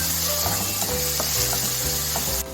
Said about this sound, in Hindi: दोनों को साथ में हम मिक्स करके अच्छे से भूनेंगे